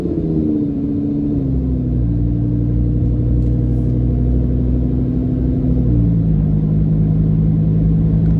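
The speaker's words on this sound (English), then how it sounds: "the sound you get is absolutely just visceral with this exhaust" A green 2015 Lamborghini Huracan LP610-4 with its mid-mounted engine right behind the cabin drones steadily while driving, a deep, full exhaust rumble holding a low, gently shifting pitch with no talking over it.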